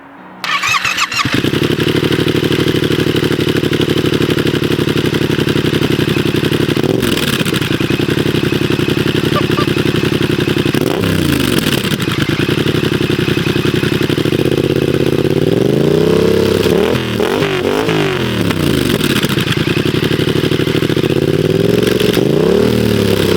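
A motorcycle fitted with a brand-new exhaust starts up loud and close, settling into a rough idle with several sharp revs rising and falling over about twenty seconds.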